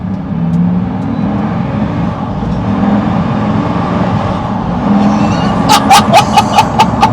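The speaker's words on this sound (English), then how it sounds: "So that's the twin turbos just spooling" Twin-turbo car engine revving, droning steadily and loud up close, then a rapid series of sharp whooshing turbo spool and blow-off bursts near the end.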